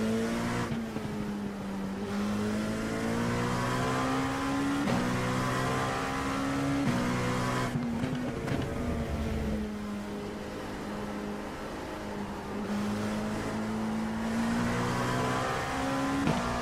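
A NASCAR race car in a racing game at Talladega holds a steady, loud engine drone on throttle, with a few quick gear shifts and brief dips before the pitch climbs again.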